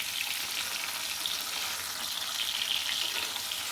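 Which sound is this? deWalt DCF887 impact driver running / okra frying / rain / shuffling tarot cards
okra frying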